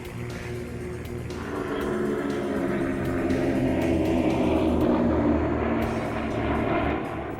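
A Beechcraft T-34 Mentor propeller trainer drones steadily at an airshow, its engine a loud, continuous rumble that swells slightly midway and holds throughout with no talk.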